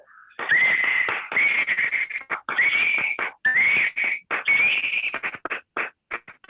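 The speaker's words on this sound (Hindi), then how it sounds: "आपके नाम की तो सीटी बनती है।" Sharp, repeated whistles ring out over bursts of clapping and crowd noise, loud and close.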